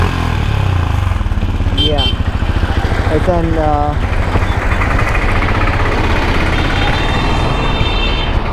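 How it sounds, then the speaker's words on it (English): Benelli Imperiale 400 motorcycle with its stock exhaust idling on a city street, a loud, close, steady thumping beat with a brief rev, while someone talks over it. "So this is a stock exhaust out there in the city."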